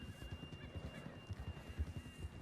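Horse hooves clip-clop in the Red Dead Redemption 2 open world, a steady run of soft, low thuds at moderate distance with a faint whinny-like tone, no talk over it.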